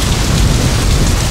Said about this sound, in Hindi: बारिश जोरों से हो रही है